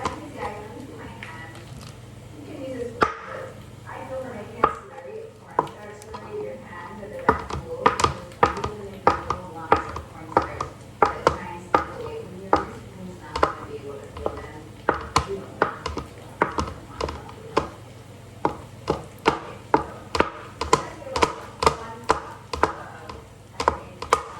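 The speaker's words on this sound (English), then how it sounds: "Whatever cheese you have. Cut it." Knife cutting through pecorino cheese on a board for homemade celery soup, a run of sharp, close, rhythmic chops over a steady low hum, with speech in the background.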